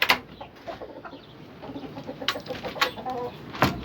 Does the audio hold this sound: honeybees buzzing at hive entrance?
no